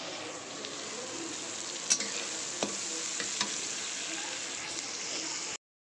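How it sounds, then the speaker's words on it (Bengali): Vegetables for dal, including cabbage, sizzle and fry in a pan, with steady close frying hiss and occasional scraping stirs, ending in a sudden brief cut to silence. "সবজিগুলো ভাজা হচ্ছে"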